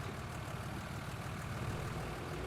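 A Fendt tractor engine idles in Farming Simulator 19, a faint, steady low rumble with an even mechanical drone and no voices.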